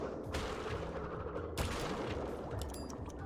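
Torpedoes fire in Crash Bandicoot 3 during an underwater stage, heard as a few sharp whooshing bursts over dense, continuous game music and effects, with bright chiming tones near the end.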